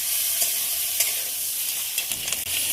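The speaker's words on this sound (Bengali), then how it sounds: "আদা বাটা, জিরে গুঁড়ো, অল্প জল দিলাম, দিয়ে মশলাটা কষানোর জন্য নেড়ে দেবো।" Ginger and cumin spice paste with a little water sizzling in a pan, a steady close hiss broken by a few quick scraping stirs.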